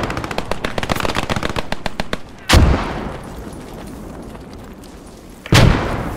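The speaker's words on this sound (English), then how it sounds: "I'm calling in some fire support on hill 1-2-1." In the World War II shooter Post Scriptum, rapid machine-gun bursts rattle for a couple of seconds. Then two heavy artillery impacts boom a few seconds apart, loud and nearby, with distant battle noise in between.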